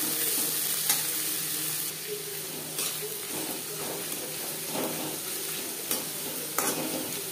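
Chopped onions and garlic frying in oil for chicken bhuna, a steady close sizzle broken by occasional scraping stirs and light utensil knocks.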